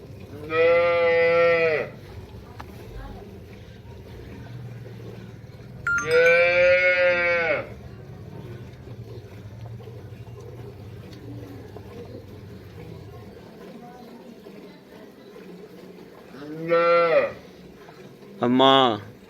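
Cholistani Friesian cross dairy cows in Pakistan give four loud, close moos: two long calls early on, then two shorter ones near the end, separated by quieter stretches of background farm noise.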